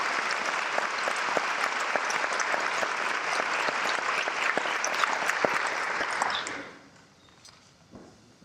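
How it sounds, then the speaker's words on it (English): Sustained applause from a school conference audience for a group of students, dense and steady for about six seconds before fading out into a quiet room. "so let's give them a round of applause."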